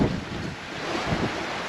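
Sailboat under stay sail and jib on open sea, pointed high at 45 to 50 degrees on a Fiji to New Zealand passage, with steady wind roaring over the microphone and waves washing past the hull, close and continuous.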